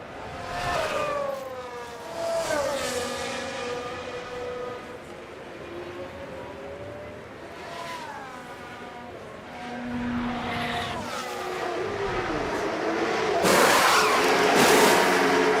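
An F1 car in a pit stop in F1 Manager 24: engine whine rising and falling as cars pass and slow, then a loud burst of noise at the end.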